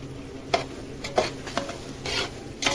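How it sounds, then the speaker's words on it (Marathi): Semolina roasting with raisins in a pan, stirred with a spoon that scrapes and taps against the metal over a faint sizzle, close and unhurried, with no one speaking. "म्हणून रवा भाजतानीच मनुके टाकायचे हे बघा मनुके टाकल्यावर पाच मिनिट हलून"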